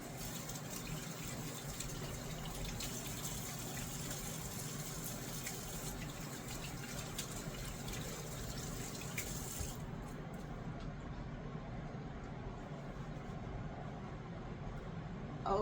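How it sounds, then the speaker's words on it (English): Running tap water while hands are washed at a home kitchen sink during cookie baking, a steady moderate splashing hiss that continues throughout, with no voices. "I'm going to quickly wash my hands because of germs"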